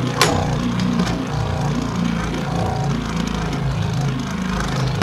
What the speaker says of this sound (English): But you can really hear the scraping of the performance tip.